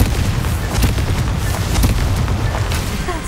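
A Confringo fire spell blasts in Hogwarts Legacy, a loud, heavy rumbling explosion with repeated booming bursts that fill the whole moment, no voices over it.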